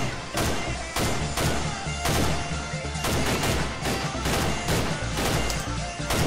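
Rapid gunfire in a zombie video game rattles out in steady repeated bursts, loud and close, with roughly a dozen sharp shot clusters across six seconds.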